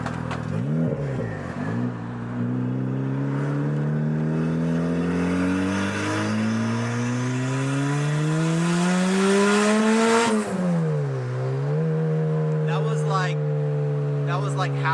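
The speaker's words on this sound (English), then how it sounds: "That was like half throttle. I'm just letting it rev up into it." The turbocharged engine of a Toyota Celica GT-S revs at half throttle while driving, its tone climbing steadily through the gears with a brief dip and recovery, loud and close, with speech-like sounds over it.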